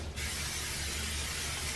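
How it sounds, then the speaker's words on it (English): Cooking oil sprayed from a can onto a Gotham nonstick pan, one steady close hiss lasting under two seconds with no voices. "spray it with a little oil"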